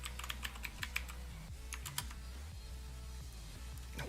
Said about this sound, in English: No, stop typing.